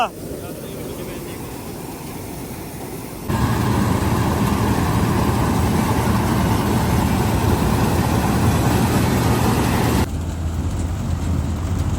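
A Mahindra turbo tractor working a paddy field runs with a steady engine drone; after about three seconds it grows louder and deeper, holds, then eases back near the end.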